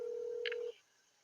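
Telephone call tone: a steady ringback hum is cut off by a brief burst of higher beeping tones just before it stops, followed by quiet line hiss, close and clear with no talking.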